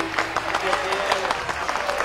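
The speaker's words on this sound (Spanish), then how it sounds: "Un fuerte aplauso para Vaso de Cristal" Audience applause at a serenade for Santa Rosa de Lima, a short steady patter of claps over a sustained tonal hum, with voices mixed in.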